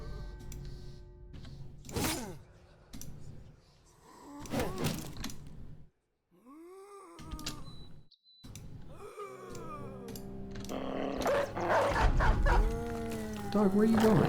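Dog barks and yips in the video game Trading Caravan arrive in short scattered bursts over a busy game soundscape, with a few whimpering pitch slides and denser noise near the end.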